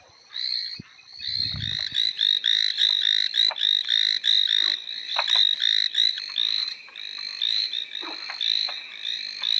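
Chinese tree frogs croaking in rapid, high-pitched repeated bursts, a loud nearby chorus pulsing steadily after a brief rustle at the start.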